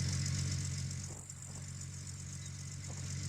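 A truck engine idles steadily in Gold Rush The Game, a low, even rumble that stays constant at moderate distance with a slight dip partway through.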